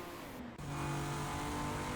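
Onboard engine of the number 22 race car in a Le Mans racing game, a loud sustained whine that briefly dips, then climbs steadily as the car accelerates, with no talk.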